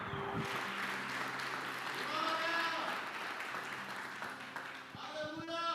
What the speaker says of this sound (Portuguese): Alguém pode aplaudir ao Senhor hoje?